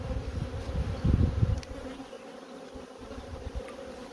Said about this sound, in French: j'ai dû avoir un essaim qui a dû rentrer dedans